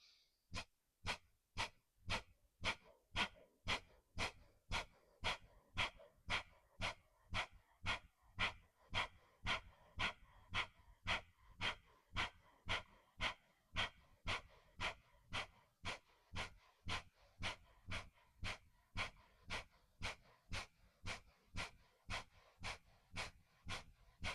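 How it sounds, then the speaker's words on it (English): Rapid, forceful exhalations repeated in a steady rhythm as a breathing exercise, about thirty sharp breaths close up with no talking. "We'll start with a normal breath in, full breath out, about a half breath in, and then begin to exhale."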